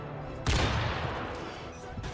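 Barrett sniper rifle firing in Modern Warfare 3, a sudden loud blast that rings out and decays over the next second and a half, with a second sharp report near the end and game noise underneath.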